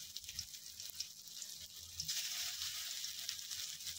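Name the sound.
spiny gourds frying in hot mustard oil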